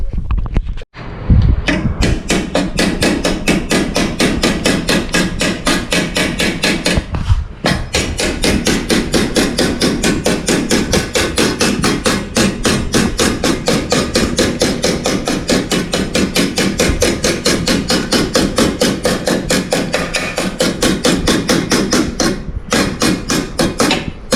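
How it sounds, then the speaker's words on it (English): Rapid, steady hammer blows on a sheet metal panel during fabrication work, loud and close with a bright metallic ring, continuing almost without pause apart from a couple of brief breaks. "do this with a hammer and dolly"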